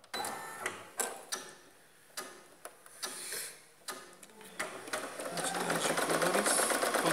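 A Brother PE810L embroidery machine gives a series of sharp, separate clicks and taps, then settles into a steady, loud mechanical whir with fast repetitive ticking.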